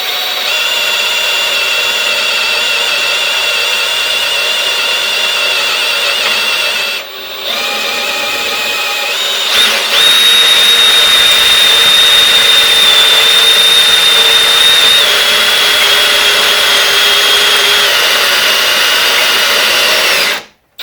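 A power drill whines loudly and steadily for about twenty seconds, drilling for tapping during a serpentine belt system build on a Volkswagen Type 4 engine, pausing briefly once and shifting pitch slightly partway through before it stops.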